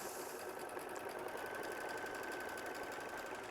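An embroidery machine stitches steadily, its fast rhythmic needle chatter and motor whir running continuously and close without any talk.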